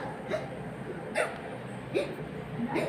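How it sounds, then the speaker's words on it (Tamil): Faint, repeated hiccups, about four short catches spaced under a second apart, sound against a soft indoor background. "என்னடா விக்கல் இருக்குது?"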